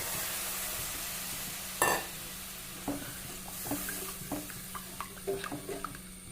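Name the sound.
tamarind water poured into a frying pan, sizzling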